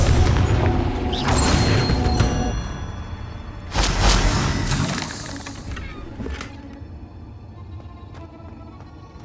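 Confringo blasting spell explosions in the Hogwarts Legacy video game, loud booming bursts with crackling debris, two main blasts and smaller crashes fading under continuous game ambience.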